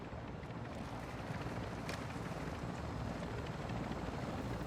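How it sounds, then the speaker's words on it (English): A military helicopter coming in to land at a landing zone in Call of Duty: Modern Warfare II DMZ, a loud, steady rotor and engine roar mixed with wind, filling the whole stretch without talk. "Now as the helicopter comes in, we can make our way over."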